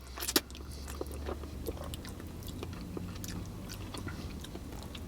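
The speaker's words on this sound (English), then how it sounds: "Let me go ahead for another bite." Bites and chewing of Jollibee fast food, close and fairly quiet, with one sharper crunch near the start followed by steady soft mastication sounds over low background noise.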